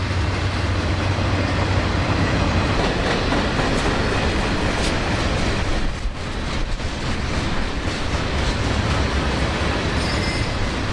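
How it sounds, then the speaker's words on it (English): Veteran EMD diesel locomotives labour hard while hauling a long freight train of rusty old boxcars, a loud, steady rumble with wheel and rail noise running throughout and easing only briefly midway. "veteran EMDs were working hard as they now had a sizable train behind them."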